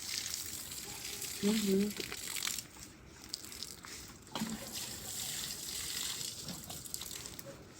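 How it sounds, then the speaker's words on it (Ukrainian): Garden plants watered at night, with water trickling and splashing close by in uneven bursts, broken by brief handling knocks while people talk quietly nearby. "Ну, Нічне поливання."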